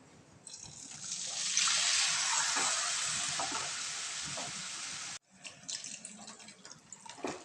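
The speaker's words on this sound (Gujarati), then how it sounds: "તો હવે આપણે તેમાં 2 કપ જેટલું દૂધ એડ કરીશું." About two cups of milk poured into a pan of coconut cooking for kopra pak, a loud sizzling hiss that swells and holds for several seconds, then cuts off abruptly and gives way to quieter bubbling and stirring.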